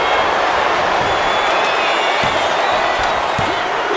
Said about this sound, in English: when you can't hear yourself think because the crowd's so...